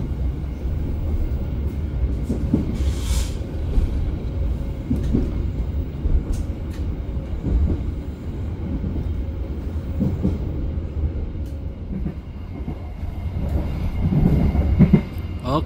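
Steady low rumble and rattle of a non-commuter passenger train carriage in motion between Rangkasbitung and Tanah Abang, Indonesia, with rhythmic wheel clatter and faint distant voices throughout.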